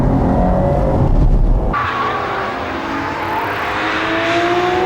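Race cars brake hard at Fuji Speedway, loud and close, with engine roar and a drawn-out tire squeal that shifts as the cars slow.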